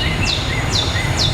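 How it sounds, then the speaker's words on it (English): Forest ambience with birds played through a Hyundai Kona Electric's cabin sound system, a soft background hush with three short rising chirps at regular intervals. "it's going to have like sound of the forest and birds"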